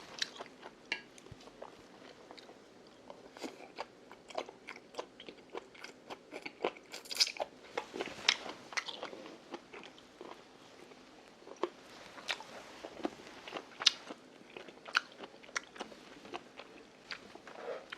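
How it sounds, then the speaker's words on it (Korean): Someone chews blanched squid close to the microphone, a long run of soft crunchy bites and wet chewing in irregular rhythm, with no talking. "일단은 여기가 질긴 부분이 질길지 한번 먹어볼게요"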